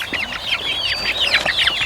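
Hungry farm chickens cluck and squawk in quick overlapping bursts, a busy close flock with constant chatter and no gaps.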